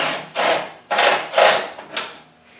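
A power gun fitted with an extended bit backs out 10mm-headed screws during TDI engine removal, giving four loud close whirring bursts, each about half a second, separated by brief pauses.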